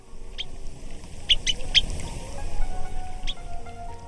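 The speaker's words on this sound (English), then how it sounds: "the melodious sounds of the birds" Scattered short, sharp bird chirps ring out over a soft, noisy outdoor background near streams and palm trees. A few calls cluster in the middle of the stretch, moderately near and without voices.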